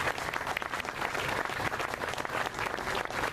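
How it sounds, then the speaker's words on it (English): An audience claps steadily at a chamber of commerce building dedication and ribbon cutting, a dense, even round of applause throughout. "I'd like to have a round of applause for Russ."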